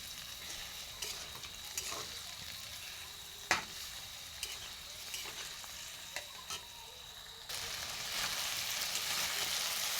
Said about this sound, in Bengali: কষিয়ে নেব মাংসটাকে